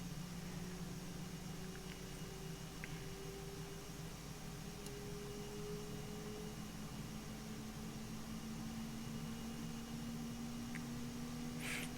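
Simulated Boeing F/A-18E jet engine during a cold start in Microsoft Flight Simulator: a steady, faint whine with slowly rising tones over a constant broadband hiss, holding level throughout.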